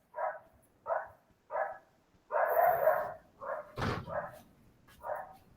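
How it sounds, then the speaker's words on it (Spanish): A female puppy barks indoors, a string of about eight sharp, fairly close yips and barks in a steady rhythm, with a brief thump partway through. "Si escuchan ese ladrido, esa es una cachorra que tengo"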